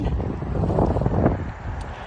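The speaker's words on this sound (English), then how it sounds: "It's very windy. You may have trouble hearing me." Gusty outdoor wind buffets the microphone on a street in Greenlawn, New York, a loud, continuous rumbling roar with no clear voice.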